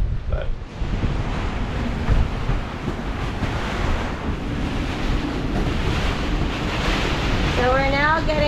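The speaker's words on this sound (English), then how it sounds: "so we're now getting hit with the meat of the storm" Tropical storm wind roars over waves around a boat at anchor, a loud, constant rushing wash with gusts buffeting the microphone and a voice briefly rising at the end.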